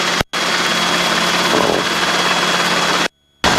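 Robinson training helicopter running on the ground before hover taxi, a loud steady engine whine and rotor drone with constant vibration, cutting out briefly near the start and again at the end.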